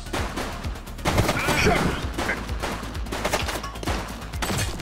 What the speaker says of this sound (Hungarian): Aztán lövöldözés.